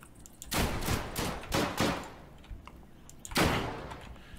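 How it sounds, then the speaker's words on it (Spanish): Two bursts of heavy double-barrel shotgun blasts in the video game Deadside, booming and close, the second a single loud shot after a pause. "esta escopeta es de dos tiros"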